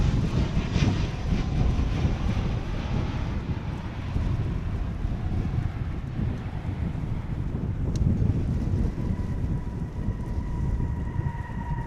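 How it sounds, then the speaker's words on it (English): American Airlines Boeing 737-800 jet arriving at Dallas/Fort Worth Airport from Puerto Vallarta, heard as a steady, broad engine roar mixed with wind buffeting on the microphone, with a faint high whine near the end. "That was a 737-800 American Flight 1288 from Puerto Vallarta."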